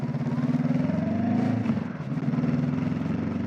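Honda NX500 motorcycle engine while riding, a steady close low-pitched droning hum with a rhythmic pulse, briefly dipping near the middle before resuming, loud and continuous with no voices.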